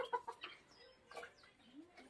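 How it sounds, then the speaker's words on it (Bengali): Foreign-breed chickens in an indoor room of a small bird zoo cluck softly and intermittently, a few short quiet calls spread across a faint background. "এখানে আপনাদের বিদেশি প্রজাতির কিছু মুরগি"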